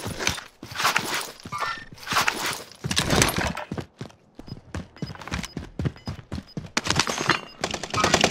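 Rapid full-auto TEC-9 gunfire crackles in close-quarters Call of Duty Warzone combat, coming in repeated bursts of sharp shots with brief gaps between them, nearby and punchy.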